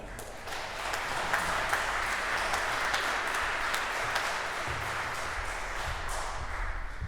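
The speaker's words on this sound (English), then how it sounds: "please give him an applause." Steady, full applause from a concert audience in a synagogue hall for a choir president, continuous and even from start to finish, moderately loud with a room-filling wash.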